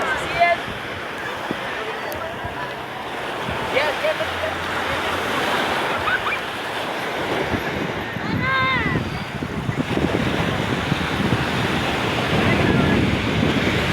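Afternoon surf on a seaside beach, waves washing in continuously under steady wind noise across the microphone, with a soft whistly tone drifting through midway.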